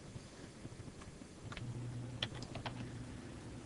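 Soft keystrokes tapped on a computer keyboard while entering a value, a few scattered clicks over a steady background hiss, close but quiet, with no talking.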